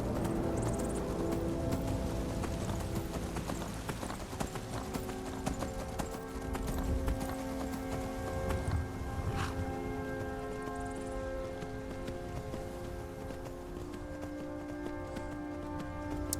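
Horse hooves clop in a steady, even rhythm on hard ground in Skyrim, moderately loud and continuous, with faint background ambience and no talking.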